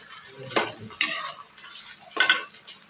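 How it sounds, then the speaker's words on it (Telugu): Okra pieces frying in a pan are stirred with a metal spoon, giving three or four distinct scraping clatters over a quiet sizzle. "ఇలా కలుపుకుంటూ వేయించుకోవాలి"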